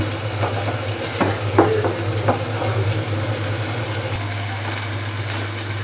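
Potatoes sautéing and being stirred in a pan in a home kitchen, giving a steady soft sizzle with a few scraping spoon knocks over a constant low hum.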